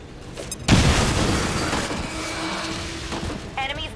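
A grenade blast in XCOM 2: one sharp, loud boom that rolls into a long rumbling decay over a few seconds, with game sounds around it.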